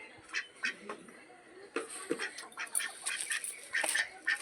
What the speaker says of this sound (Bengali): দেখো আমাদের হাঁস